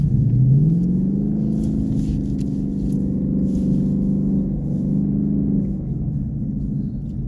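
A 2016 Mustang GT on Blizzak WS90 tires accelerates through deep snow, its engine rising in pitch and then holding a loud, steady, throaty drone close by for several seconds before easing off.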